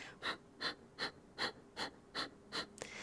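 Short, forceful exhales through the nose during a yoga breathing exercise in boat pose, seven sharp puffs at a steady rhythm, close and clear with no talking.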